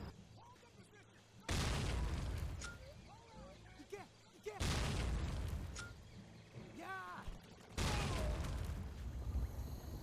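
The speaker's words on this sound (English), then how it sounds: "It can lead to some pretty funny explosions and enemy deaths, as you can see here." Three loud booming explosions at intervals in a video game, each followed by a decaying rumble, with someone talking between and under them.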